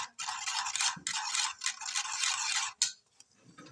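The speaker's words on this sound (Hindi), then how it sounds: "तो इसको अच्छे से फेंटना है और मिक्स करना है" A spoon rapidly whisks a chana chaat mixture in a bowl, dense continuous scraping strokes in close bursts with a brief pause and sharp tap near the end.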